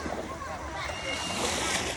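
Ocean waves wash steadily at a beach in Cebu, Philippines, a broad continuous surf hiss with wind buffeting the microphone, holding fairly level and swelling slightly louder toward the end.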